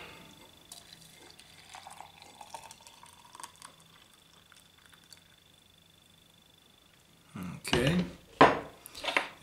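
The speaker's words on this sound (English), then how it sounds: "And now the water." Water is poured to brew black tea, a brief splashing burst with clinks of a cup or pot near the end after a long quiet stretch of faint kitchen sounds.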